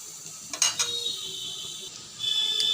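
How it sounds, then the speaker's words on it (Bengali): Chili and turmeric powder being stir-fried in a pan for a vegetarian pumpkin and potato dish, with a few scraping clinks of a spatula against metal over a soft, steady sizzle that swells near the end. "মিশিয়ে রাখা লঙ্কার গুঁড়ো আর হলুদের গুঁড়োটা দিয়ে ভালো করে কষিয়ে নেব"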